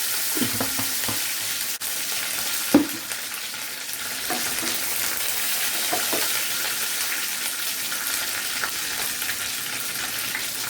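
Curry leaves and two dried red chillies fry in hot oil for a Chettinad chicken gravy, giving a steady close sizzle with a few soft stirring knocks and no talking.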